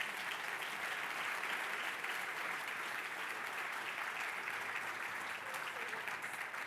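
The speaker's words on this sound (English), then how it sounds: "give them a round of applause" Applause from an audience fills the room as a steady, even hiss of many hands clapping, fairly faint and distant, with no break.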